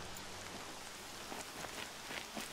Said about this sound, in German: Noch mehr Regen.